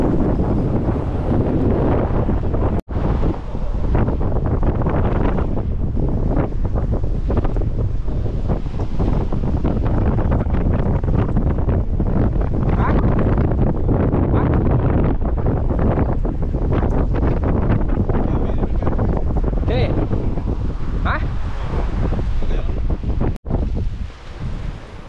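Strong wind buffets the microphone in a continuous roar beneath a bridge during a fishing outing in the rain, with a wash of water in the background.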